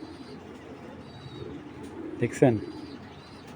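One top racing pigeon from a breeding pair gives a single brief, rolling coo close to the microphone as someone speaks briefly nearby.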